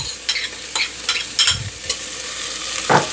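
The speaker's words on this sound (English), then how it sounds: "let me get the onions in our pan and get them sauteing" Chopped onion and celery sautéing in a pan for Southern cornbread dressing, a steady low sizzle with repeated scraping stirs from a utensil, close and without talk.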